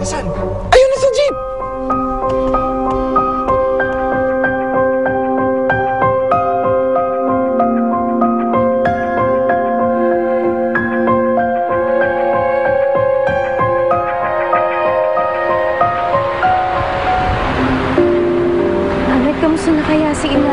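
A jeepney drives past with a harmonic engine drone that holds steady, then rises and grows louder near the end. People talk over it.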